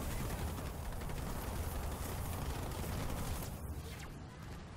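Gunfire and grenade blasts in a Halo Wars 2 video game battle, a dense, continuous rumbling barrage of shots and explosions that stays loud and dense and then thins slightly at the end.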